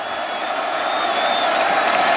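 Stadium crowd roars steadily at a college football game, the ACC Championship between Wake Forest and Georgia Tech at Alltel Stadium, a dense loud wash of cheering and whoops with no pause.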